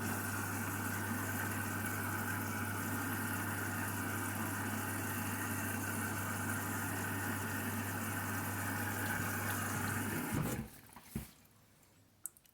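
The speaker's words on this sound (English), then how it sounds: "this is the main wash for the 14-minute rapid wash." A Candy washing machine runs the main wash of its Rapid 14 programme with a steady droning motor hum and a low churning rumble. It cuts out near the end, leaving faint clunks.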